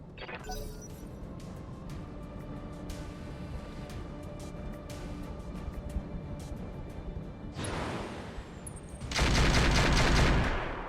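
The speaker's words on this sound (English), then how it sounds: "Ammo explosion. Think I hit something good." Gunfire and an ammunition explosion in the Roguetech mech combat video game, with a long run of rapid shots, then a sharp crash and a loud, sustained roaring blast at the end. No one speaks.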